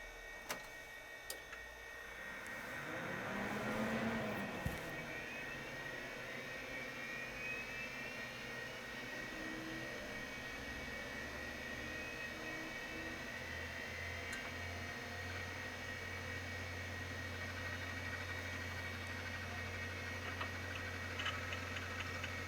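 A DEC VAX 4000 Model 300 computer powered on and running gives a steady whirring fan drone with a low hum, swelling in a brief rush near the start and then holding constant and faint, with occasional small ticks.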